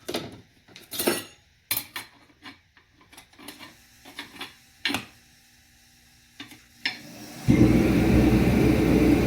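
Steel clutch plates for a 6L80 transmission clink and scrape as they are stacked by hand, a run of separate sharp metallic taps and rubs ending in a louder sustained rattle.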